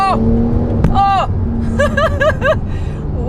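Porsche 911 Turbo S launching under launch control, engine note rising through quick successive gear changes as it pulls away hard, with excited voices and shouts over the acceleration.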